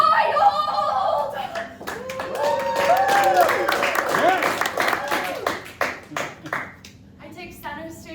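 Audience clapping after a dance show's grand finale, a brisk burst of many hands that swells then thins out, with chuckles and voices mixed in.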